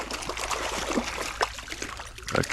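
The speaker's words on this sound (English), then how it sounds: "there's a brook." A brook runs beside a trout stream in Wisconsin, its water trickling and splashing steadily and fairly faintly through the short stretch, with no voices.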